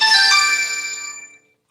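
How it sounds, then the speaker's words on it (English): A phone rings with a bright melodic ringtone for an incoming call, a short chiming phrase that rings out and fades within about a second and a half, heard alone. "Oh, this broad's calling me."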